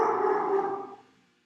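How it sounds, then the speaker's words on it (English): A single drawn-out dog bark or howl rings out nearby, then fades away over about a second. "my dogs are barking."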